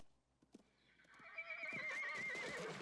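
A horse from the film Night of the Lepus lets out a loud, shrill whinny lasting well over a second, after a few scattered thumps and hoof-like knocks.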